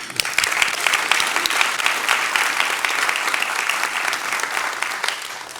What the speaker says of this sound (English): I would like just to take a moment for another round of applause for Shemaine.